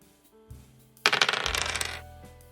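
Dice rolling during a Catan board game: a sudden clatter of dice tumbling and rattling on a hard surface for about a second, fading out, with a few quieter knocks before and after.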